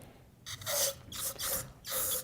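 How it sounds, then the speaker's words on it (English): Spray paint hissing onto a motocross handlebar in three close, loud bursts of about half a second each, separated by short pauses. "let's give this thing a shot of spray paint here"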